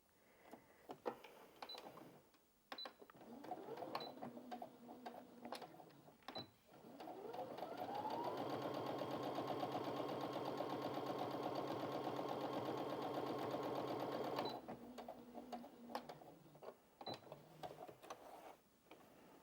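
Brother Innov-is A50 sewing machine stitching through four layers of fabric: short bursts, then a steady whirring run of rapid stitching that rises and holds for several seconds before stopping, followed by faint clicks.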